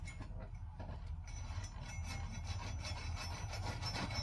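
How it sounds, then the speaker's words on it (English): A 3/32 7x7 wire snare is pressed hard and rubbed back and forth across an anvil, giving a steady, continuous grinding rasp that carries on without pause and with no talking. "I'm going to rub it, put quite a bit of pressure on it, back and forth."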